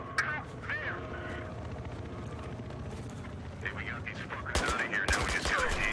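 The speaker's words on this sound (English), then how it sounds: "I was on burst fire" Burst-fire gunshots in Battlefield Hardline multiplayer on PS4, short rapid volleys of game gunfire amid a busy battle soundscape, with a player talking at times.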